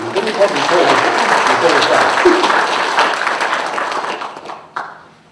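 A seniors' gathering breaks into warm applause for a town councillor, many hands clapping steadily and fairly close, with a voice briefly heard before the clapping fades out in the last second.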